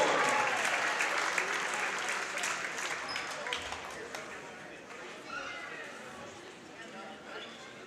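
A high school volleyball crowd in a gym cheers and applauds for a senior player: a loud burst of clapping and shouting that gradually thins and fades over several seconds.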